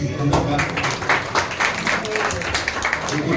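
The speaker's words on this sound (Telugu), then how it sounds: "first of all Umashankar Gupta గారికి ఒక బిగ్ క్లాప్స్ ప్లీజ్" An audience at a student foundation anniversary event in Boduppal breaks into applause, a dense wash of clapping layered with talk and crowd voices.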